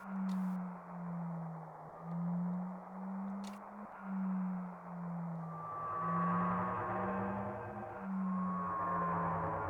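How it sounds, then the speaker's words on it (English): An eerie, wavering synthetic tone from Final Fantasy VII pulses in slow repeated swells, with a higher warbling layer joining later; a low, steady electronic wail. "That is the sound of the planet screaming."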